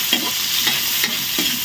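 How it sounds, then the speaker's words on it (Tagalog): Onion sautéing with browned garlic and ginger in a pan for adobo in coconut milk, a steady sizzle broken by four short stirring scrapes at even intervals. "Tapos, diretso na po ng sibuyas."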